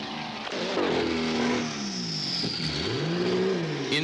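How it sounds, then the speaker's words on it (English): A Lola race car engine roars past close by at the 1982 IMSA GT race at Mosport, loud and rising then falling in pitch as it accelerates through. "Jim Adams has clambered into Cord's Lola and roars past the still stationary Porsche"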